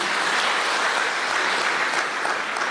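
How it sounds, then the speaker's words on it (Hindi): Dense applause from a crowd, a steady wash of many hands clapping at once, sustained throughout without any voices. "हाथ ताली बजाओ अपने लिए"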